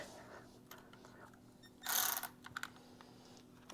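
A ratchet clicks in short bursts while snugging up Harley-Davidson floorboard parts, with a louder burst of rapid clicking in the middle, faint and close, with no speech.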